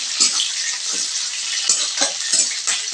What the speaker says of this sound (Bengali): অর্ধেকটা পেঁয়াজ তেলের মধ্যে দিয়ে দিচ্ছি তারপরে পেঁয়াজটা একটু নাড়াচাড়া করে ভেজে নিতে হবে